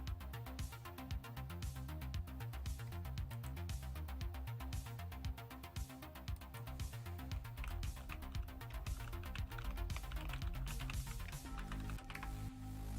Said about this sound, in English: Sorry if you could just hear me slapping the keyboard.